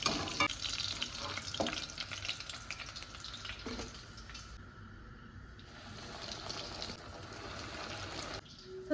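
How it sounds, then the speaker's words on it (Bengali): Large pieces of food sizzle and spit steadily in a hot pan of oil while being stirred now and then, a close, continuous crackle with a brief quieter dip midway. "আর একটু সময় নিয়ে ভাজবো, কারণ বড় বড় পিস আছে তো"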